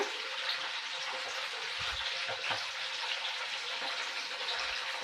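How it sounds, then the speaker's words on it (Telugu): Indian gooseberries fry in hot oil for an Andhra-style pickle, giving a constant dense bubbling sizzle with faint low clinks underneath, steady and close, with no talking. "నూనెలో ఇట్లా వేయించుకొని నీట్గా కొంచెం కలర్ వచ్చే వరకు ఇట్లా తీసేయాలి"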